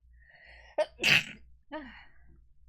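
One close, sharp sneeze with a quick intake of breath beforehand and a brief vocal exhale after.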